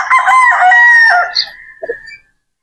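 A Boston Roundhead brood stag rooster crows once, loud and close, with a long drawn-out call and a few short clucks at the end, then silence.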